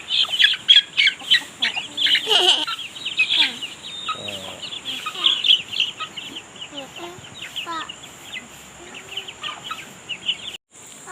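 Free-range native chickens cluck and squawk steadily throughout, with some calls loud and near and others farther off, and a faint voice briefly audible underneath.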